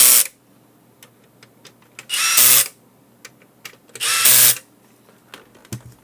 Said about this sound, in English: Okay, now it's ready to face the electric screwdriver.